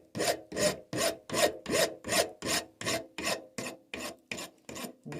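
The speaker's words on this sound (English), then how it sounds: "You can feel the file skating across the brass, so you know when you've got down to the right size" Steady back-and-forth rasping of a hand file across brass hex bar clamped in a vise, about a dozen even strokes in a regular rhythm, close and clear with no talk.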